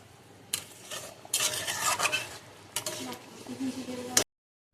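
Koi fish simmering in mustard-poppy seed gravy in a pan, stirred with a spoon in bursts of scraping and clinking over a low bubbling sizzle, close by, ending abruptly.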